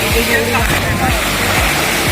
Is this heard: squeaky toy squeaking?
no